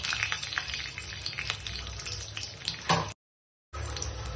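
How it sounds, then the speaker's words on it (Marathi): Garlic cloves dropped into hot oil in a pan hiss with a continuous, bright sizzle and crackle up close, briefly cutting out before resuming. "तेल टाकलेलं आहे, त्यामध्ये आता मी लसूण पाकळ्या टाकते"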